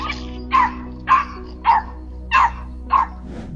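A dog barking at a coyote while defending its owner, five evenly spaced sharp barks about half a second apart over a low steady background hum.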